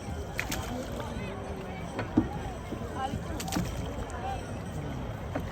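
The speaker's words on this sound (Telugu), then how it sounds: "అక్కడికే పడవ చిన్నగా సాగుతుంది" A small boat glides slowly across the river at Triveni Sangam in Prayagraj, with faint water lapping and sloshing under steady wind, while people talk in the background.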